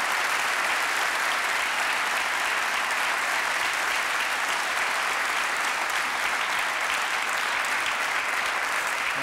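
A TV studio audience at the comedy show TV total breaks into loud, sustained applause, a dense and steady wash of many clapping hands that fills the whole stretch without pause.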